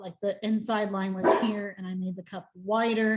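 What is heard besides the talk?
dog barking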